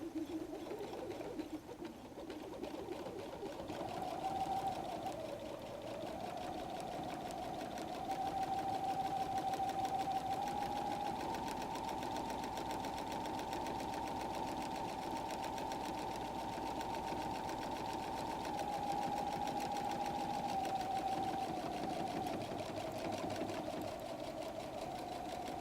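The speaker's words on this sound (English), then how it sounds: "I'm going to stitch in the ditch" A sewing machine stitches in the ditch on a messenger bag, running slowly and continuously through thick bulk with a steady droning hum that shifts slightly in pitch, quiet and close with no talking.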